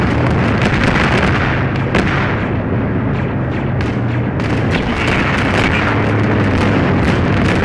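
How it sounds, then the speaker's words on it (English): Rocket explosions and heavy weapons fire in the military video game Arma 3, in a Star Wars themed mission, forming a constant loud roar of booms and blasts that keeps going for the whole stretch with no talking. "Firing all these rockets at us."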